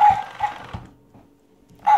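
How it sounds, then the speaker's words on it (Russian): A toy dog barks when petted, giving three quick yaps, a pause, then another bark, close and fairly loud. "Только ее гладишь, она сразу гавкает."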